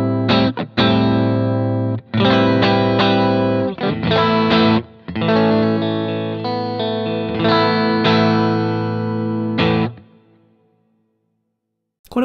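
Crunchy overdriven electric guitar through a crunch amp model on a BOSS GT-1000 processor, playing chords in several bursts, loud and close, with brief pauses between phrases, ending in a ringing chord that fades out.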